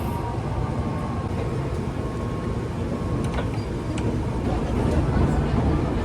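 The Nankai Railway Gran Tenku tourist train rumbles into a station, with a steady low rolling roar, a thin tonal whine and occasional clicks and knocks from the rails.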